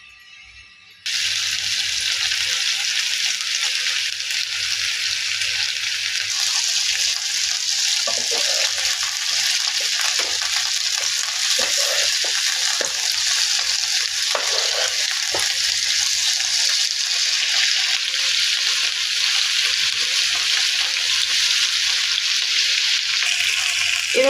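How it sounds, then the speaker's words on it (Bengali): Marinated chicken pieces fry in hot oil in a pan, a loud, steady sizzle bursting in after a brief quiet moment and crackling continuously with occasional stirring. "এবার মাখিয়ে রাখা মুরগিগুলো আমি একে একে দিয়ে ভেজে নেব।"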